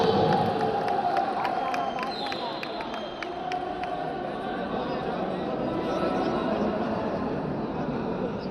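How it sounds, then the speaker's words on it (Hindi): Crowd applause and cheering at a bodybuilding contest prize ceremony, a steady, moderately loud wash of clapping and murmur from a large audience, with an announcer talking over it. "भरपूर तालियां हमारे प्लेयर और मेहमानों के लिए।"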